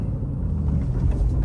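A 2001 Porsche 911 Carrera coupe with a refreshed engine and 105,000 miles on the chassis drives along, giving a low, steady engine rumble heard close and continuous over a short stretch.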